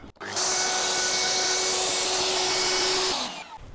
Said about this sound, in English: now with the dovetail bit, I'm just going to follow along the same track and just make that a dovetail shape